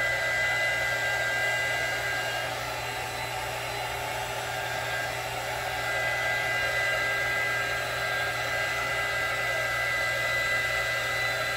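A hair dryer blows steadily across poured resin paint, a loud close whooshing hum that holds nearly unchanged throughout with no voices.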